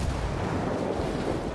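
In Tom Clancy's Ghost Recon Wildlands, explosions rumble outside as a dense, continuous roar of blasts with no clear pauses between them.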